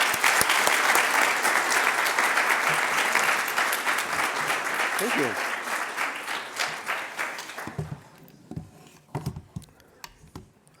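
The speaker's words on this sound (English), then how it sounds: "can we all give a big round of applause" An audience at a high school science day talk applauds loudly and steadily for several seconds, then the clapping thins out to a few scattered claps as someone briefly speaks.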